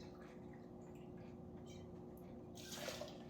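Gin poured into a lemon basil cocktail: a faint, soft liquid trickle and splash that swells briefly near the end, with no talk.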